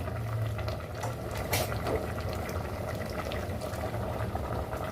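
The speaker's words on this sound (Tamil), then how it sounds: "கடலைப்பருப்பும் கோஸும் நல்லா சேர்ந்து கொதித்து வரணும் நல்லா" A pot of chana dal and cabbage bubbles steadily at a low, continuous simmer, with soft popping and hissing throughout and no voices.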